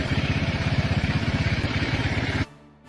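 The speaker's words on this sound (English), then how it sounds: "a motorcycle featuring a bathtub instead of a sidecar" A Russian military motorcycle with a bathtub mounted in place of a sidecar, its engine chugging in a steady, close pulse before cutting away abruptly near the end.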